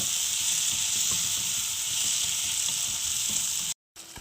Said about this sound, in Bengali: এখন আমি এটাকে একটু ভাজা ভাজা করে নেব